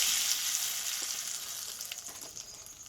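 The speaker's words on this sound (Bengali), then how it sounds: "ডিমটা আমি অর্ধেকটা করে নিয়েছি আমি এইভাবে ভেজে নেব" Halved egg frying in mustard oil seasoned with turmeric and salt in a kadai, a soft continuous sizzle and crackle with small pops, close and quiet, no voices.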